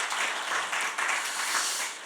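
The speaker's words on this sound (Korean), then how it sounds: "하나님께 영광의 박수를 한번 올려드리기 원합니다" Church congregation applause at a Friday worship service, a full, even burst of many hands clapping with small swells, fairly close and loud, with no voices heard.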